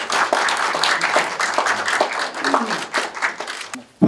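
An audience claps in congratulation at a school award ceremony marking a district education committee's tenth anniversary, a dense, steady wash of applause filling the room, fading abruptly at the end.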